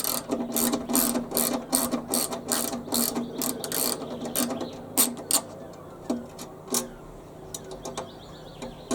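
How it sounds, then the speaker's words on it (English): A ratcheting socket wrench clicks in rapid bursts while undoing the bolts on a Hyundai HYSC210 lawn scarifier, the clicks close and crisp at first, then slowing into sparser single turns. "ideally, as I have here, you can use a socket to speed things up a little"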